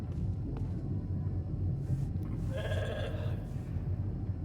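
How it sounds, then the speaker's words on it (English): A sheep in the video game The Alters gives a single short bleat over a steady low rumbling ambience. "Never thought I'd be so glad to see a sheep."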